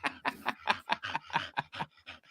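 A dog pants rapidly and rhythmically, close and fairly quiet, with about a dozen quick breaths in a steady pattern.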